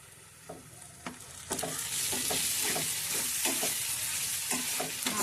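Tomato and soaked cashew paste sizzles in hot oil in a pan, a steady bright frying hiss that swells as the paste goes in, with repeated clinks and scrapes of a spoon stirring it close up.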